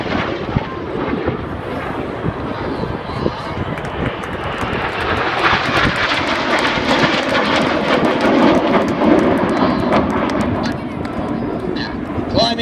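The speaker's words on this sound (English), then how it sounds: "Now look to the left. Here comes a lone jet." A lone Red Arrows jet passes at the Biggin Hill air show in 2017, its engine roar swelling and holding steady for several seconds, while an announcer commentates throughout.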